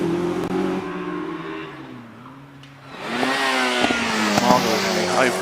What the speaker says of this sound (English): Marvel in the Hayabusa powered Caterham 598